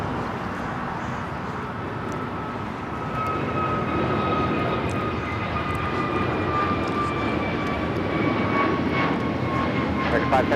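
A fixed-wing airliner takes off from runway 25 right at Los Angeles International Airport, its engine roar swelling loudly and steadily over about ten seconds with a rising whine, and a radio voice talks over it.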